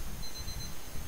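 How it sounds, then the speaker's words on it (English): An electronic alarm rings in the game The Final Station, a thin, steady high-pitched tone that comes and goes over a rumbling, noisy background, with no talking. "Can somebody shut the fuck up that freaking alarm?"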